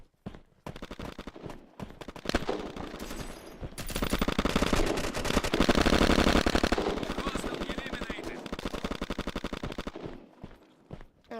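Bursts of automatic gunfire and single shots from the online shooter game Red Crucible Firestorm, dense rapid crackling that swells to a loud sustained volley in the middle and continues through the clip with scattered footstep-like taps.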